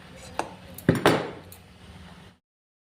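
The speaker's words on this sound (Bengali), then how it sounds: "তবে একটুখানি ঘেঁটে নেব, এই খুন্তি দিয়ে যেটুকু" A metal spatula scrapes and knocks against a pan while stirring a cauliflower filling for singhara, a few sharp clinks and a short scraping stir, close and fairly loud, then silence.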